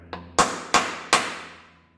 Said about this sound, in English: and then hit it with a hammer.